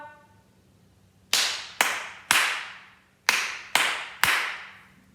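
Six crisp hand claps ring out in a rhythm pattern, two quick pairs with a gap and then a trio, each sharp and close with a short room decay, after a faint tone fades out.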